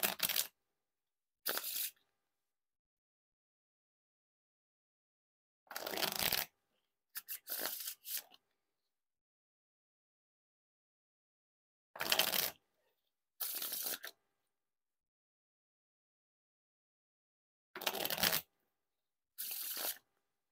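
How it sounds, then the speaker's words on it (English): Eight quick bursts of riffle-shuffled Green Ace Fulton Casino playing cards, each a brief crisp flutter, arriving in pairs separated by long silent pauses. "Now for the riffle shuffle or bridge shuffle."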